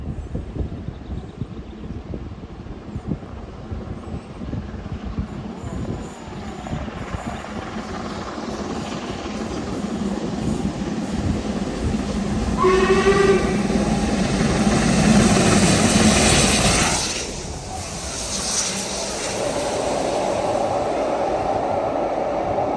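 A steam train approaches gradually, its rumble swelling into a loud passing roar, with a brief whistle rising above it before the sound eases.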